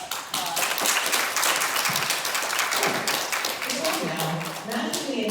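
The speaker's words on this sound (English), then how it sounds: "let's give them a round of applause" Audience at a book publishing event with Duke University Press and University of Arizona Press breaks into sustained applause, a dense, steady clapping that fills the whole clip, with a few voices mixed into it.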